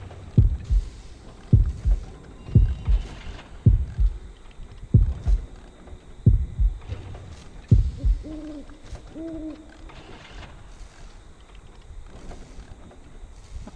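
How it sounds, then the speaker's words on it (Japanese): A heartbeat warning sounds in the horror video game Horrorfield: heavy, regular double thumps about once a second that fade out, followed by a few soft, low electronic tones. "心音なくなってくれて助かりました。 いや、また鳴り始めた。"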